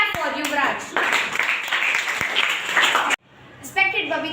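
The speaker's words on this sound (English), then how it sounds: "Now clap for Yuvraj." Audience applause at a school event, a short burst of clapping hands under an announcer's voice, breaking off abruptly before another speaker begins talking.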